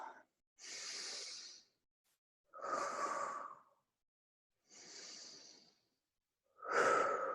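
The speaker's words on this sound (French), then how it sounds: "Commence avec 3 grandes respirations." Deep breaths in a calm relaxation exercise, several long slow airy inhales and exhales with silent pauses between them, close and soft, no talking.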